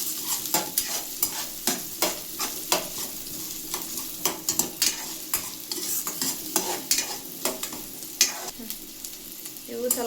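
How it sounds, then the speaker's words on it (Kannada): Onions fry in hot oil for a North Karnataka aloo dum biryani, a steady broadband sizzle broken by frequent sharp scrapes and clatters of a spatula stirring the pan, close and fairly loud throughout. "ಉಳ್ಳಾಗಡ್ಡಿ ಫ್ರೈ ಮಾಡ್ಕೊಳ್ಳೋಣ. ಫ್ರೈ ಆಗ್ರಿ ಉಳ್ಳಾಗಡ್ಡಿ."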